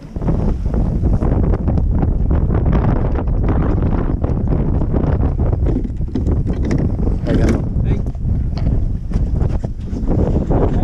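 Strong wind buffets a fishing charter boat at sea, a loud, constant, rushing roar of wind noise against the microphone. Muffled voices sit underneath the wind.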